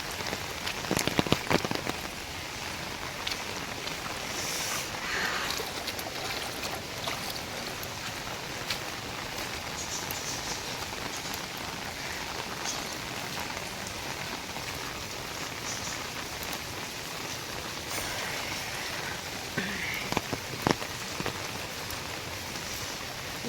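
Heavy rain pours down steadily in a flooding village, a dense, continuous hiss of drops hitting surfaces that stays close and even throughout, with a few slightly louder patters near the start.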